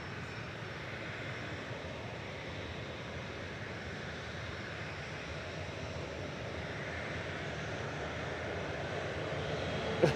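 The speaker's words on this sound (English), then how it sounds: "Ryanair departing to Limoges, flight 38." Ryanair jet departing Manchester Airport, a steady, distant engine roar that holds even and faint throughout, swelling slightly at the end, with no voices.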